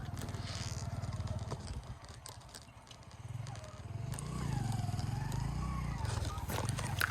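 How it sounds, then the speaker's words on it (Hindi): A motorcycle engine putters faintly, fades, then grows louder as it draws nearer, with a soft voice murmuring nearby. "बाइक की आवाज़ आ रही है, मुझे लगता है कोई आ गया।"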